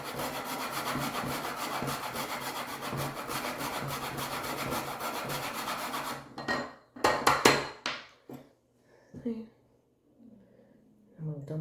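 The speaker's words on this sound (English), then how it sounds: "I'm just grating it into a separate bowl to make sure that I get enough nutmeg in there." Nutmeg scraped against a grater over a bowl, a steady dense rasping for about six seconds, then a few separate scrapes and knocks as it stops.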